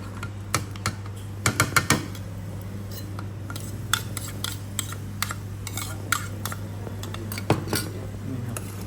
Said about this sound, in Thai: เวลาตักขึ้นแล้วเราก็นำมาปั้นให้ละเอียดเลยนะครับ